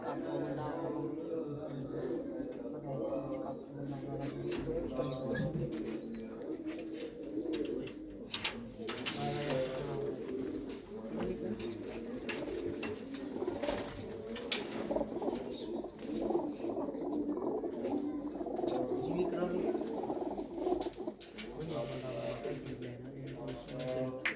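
Pigeons in a loft at Mullanpur Kalan coo and flutter close by, their low rolling calls repeating through the whole stretch while people talk over them.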